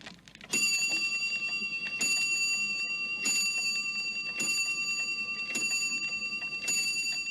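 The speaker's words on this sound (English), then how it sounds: "ping went the shop's doorbell" A shop doorbell gives a series of bright, ringing pings, about six evenly spaced strikes, each ringing on briefly before the next, with no one talking.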